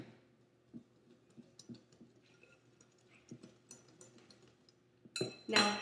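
Dry ingredients (flour, baking powder, salt, pumpkin pie spice and baking soda) stirred together in a bowl for pumpkin bread, with soft irregular scrapes and light clinks, quiet and close, ending in a louder rattle.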